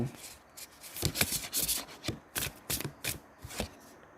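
Tarot cards are shuffled by hand for a reading, with a rapid series of close, crisp riffling and rubbing bursts in an uneven rhythm.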